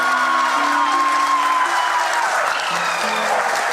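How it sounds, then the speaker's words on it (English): Crowd applauds India's moon landing in a steady, dense round of clapping, with a few faint cheers and tonal sounds under it and no clear speech. "People are applauding."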